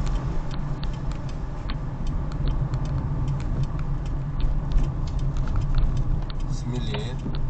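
Turn signal of a car ticking in a steady, regular rhythm inside the cabin during a driving lesson, under continuous engine and road rumble with a person speaking.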